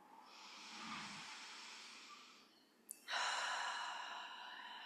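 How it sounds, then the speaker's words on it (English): Two slow, deep, deliberate breaths during a guided relaxation, a long airy inhale followed by a brief pause and a strong close exhale, heard alone and fairly soft. "taking a few intentional deep breaths"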